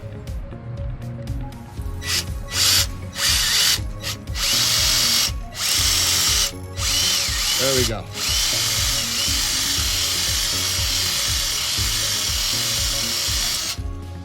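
A power drill whines in repeated bursts, boring into a 35-inch mud tire, stopping and starting, with brief pauses between runs and a short spoken remark near the end.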